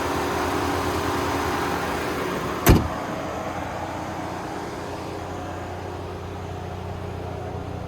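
A 2025 Ford Ranger XLT FX4 with a 2.3 liter turbo four-cylinder holds a steady high idle, a constant low engine drone with one brief click partway through.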